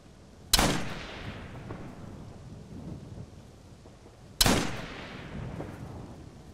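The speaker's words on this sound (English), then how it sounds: "Team, suppressing fire on my target." Two loud, sharp gunshots in the military shooter Operation Flashpoint: Red River, about four seconds apart, each cracking and then rolling away in a long booming echo that fades into a low rumble.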